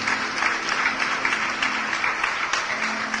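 A church congregation applauds, a steady, moderately loud wash of many hands clapping that carries on evenly throughout, with a faint low tone humming beneath it.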